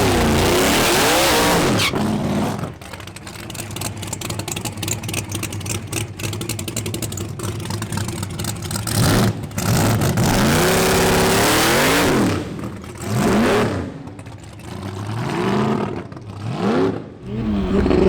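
Race car engine revs hard and loud, its pitch sweeping up and down in repeated surges, with a tire squeal partway through and continuous mechanical roar throughout.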